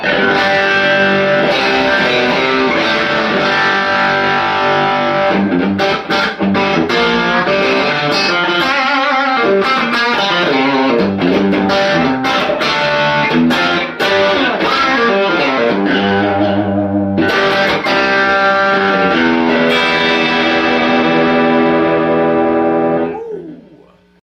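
A heavily distorted electric guitar on the bridge pickup plays loud, bright chords and riffs through the red overdrive channel of a Vintage Sound 22SC amp, ringing out steadily before fading at the end.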